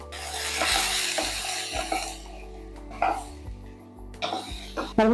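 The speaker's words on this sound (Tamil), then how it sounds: "தக்காளி எல்லாம் நல்லா வதங்கிருக்கும்" Tomatoes sauté in a pan with tamarind and salt for a chutney, making a soft sizzle broken by a few scraping stirs, with brief louder knocks of the spoon near the end.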